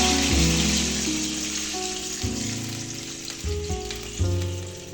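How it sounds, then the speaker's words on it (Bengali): Water poured onto fried potatoes in a hot pan sets off a loud, close sizzle that fades and flares again with stirring, with no voices. "আলুগুলি ভাজা হয়ে গেছে। এবার জল দিয়ে দিলাম।"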